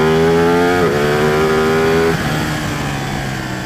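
A Ducati 899 Panigale sport bike with a Superquattro over-square twin revs loudly and close up, holding a steady high note, dipping briefly, then dropping back toward a lower idle.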